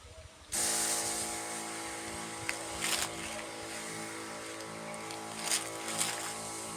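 A Dayton sprayer hisses steadily close by after a sudden start, a continuous broadband spray with a low engine-like hum beneath and a few brief surges in intensity, used outdoors on a crop.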